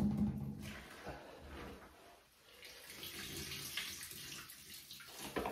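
Banana wine must, juice and pulpy solids sloshing and pouring from one bucket into another, a continuous wet rushing and splashing with a brief lull midway, fairly close.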